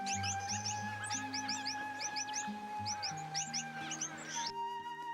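Australian finches chirping in short repeated bursts over a steady tonal background with low sustained tones, a busy close mix of high calls lasting throughout.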